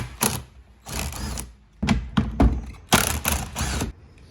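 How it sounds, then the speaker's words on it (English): A ratchet wrench clicks in short, rhythmic bursts while undoing 12mm bolts that hold a jet ski grab handle, close and clear, with brief pauses between strokes. "I'm going to undo these 4 bolts that hold on the grab handle"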